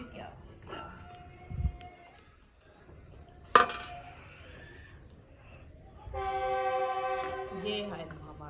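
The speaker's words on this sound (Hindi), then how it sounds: "ट्रेन भी आ गई है।" A passing train sounds a long, steady horn in the distance beside an outdoor village cooking spot, after a sharp clink of a pot and some soft talk.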